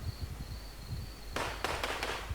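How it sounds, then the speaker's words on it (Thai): Sharp bursts of gunfire crackle in quick succession after a quiet stretch with a faint high tone, loud and close, in the video game The WarZ. "ได้ยินเสียงปืนครับ ต้องหมอบครับ"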